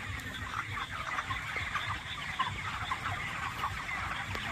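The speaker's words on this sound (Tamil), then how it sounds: "கோழியை பாருங்கள்" A flock of broiler chickens clucking steadily and continuously, with overlapping soft calls and a busy background hum of a poultry shed.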